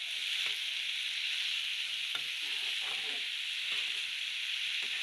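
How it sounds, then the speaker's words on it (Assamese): Salted banana stem frying in a pan over a low flame: a constant close hiss of sizzling with occasional stirring scrapes and taps, no voices. "এতিয়া নিমখ দি অলপ দেৰি ভাজি থাকিম।"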